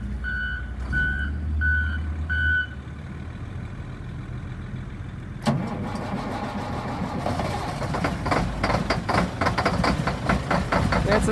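A truck engine cranks and catches on a cold morning of about 25 degrees, then settles into a loud, rough idle. A steady reversing beeper sounds before the start. No one speaks.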